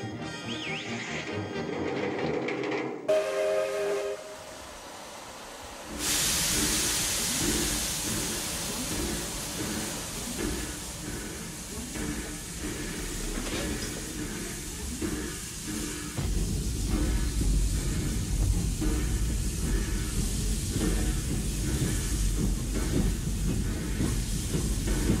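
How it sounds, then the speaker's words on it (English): An old steam train on the Zig Zag Railway in the Blue Mountains hisses steam and rumbles along, with a rhythmic clatter of wheels building into a loud, continuous roar, after a brief quieter opening. "Zig Zag Railway is strictly for kids. Kids who love old steam trains."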